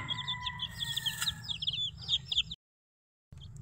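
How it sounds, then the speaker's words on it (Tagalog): Chickens, including a large one, clucking close by in a farmyard: a busy run of repeated clucks and short calls over a low background rumble, broken by a brief silent gap before the sound resumes. "Malaki to na manok."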